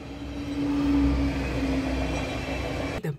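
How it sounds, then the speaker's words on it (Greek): A train passes nearby with a steady, swelling rumble and a sustained tonal hum that fades slightly before cutting off abruptly at the end. "Τι είναι αυτό. Τρένο. Τρένο."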